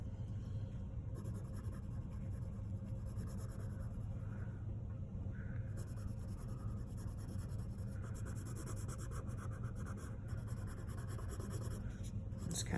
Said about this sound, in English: I'm going to switch to a darker pencil.